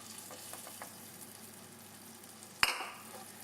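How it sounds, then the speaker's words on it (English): A butter and flour roux cooks in a pot with a faint, soft sizzle, broken by a single sharp clink of a utensil against the pot. "Once the butter is melted, slowly put your flour in."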